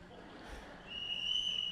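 A whistle blown weakly gives a thin, high, steady tone that enters partway through and holds faintly over a low background hum.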